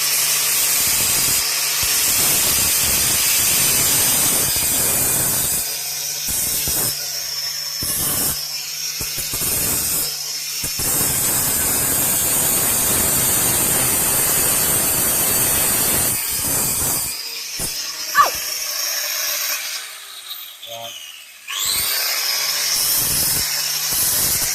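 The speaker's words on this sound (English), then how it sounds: "Just a grinder and a disc, a little bit of eye protection." An angle grinder with a cutting disc slices through a plastic flared wheel-arch guard, giving a steady loud whine for about sixteen seconds, then a few short bursts and a sharp snap as the cut finishes.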